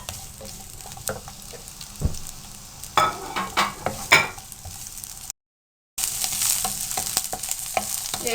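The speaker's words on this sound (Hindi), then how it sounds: "अब इसी ऑयल में हमने शिमला मिर्च को फ्राई करना है 1 मिनट के लिए।" Capsicum fries in oil left from cooking chicken, a close crackling sizzle with bursts of spoon stirring and clatter, interrupted by a short silent gap before the frying resumes.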